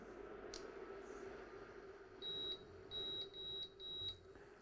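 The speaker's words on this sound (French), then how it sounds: "J'allume ma plaque à induction." Induction hob giving several short electronic beeps as it switches on, each a clean high tone over faint kitchen background hiss.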